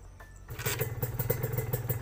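Honda NSR 150 two-stroke motorcycle engine idling and being blipped nearby, a crisp ringing exhaust with rapid rhythmic pulses after a quiet start, loud and alone.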